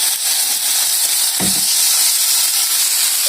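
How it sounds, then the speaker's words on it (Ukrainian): Loud, steady sizzling of steaks frying in a hot pan, a dense hiss that fills the clip with one brief low thump. "Сковорідка моя нагрілася, викладаю свої стейки."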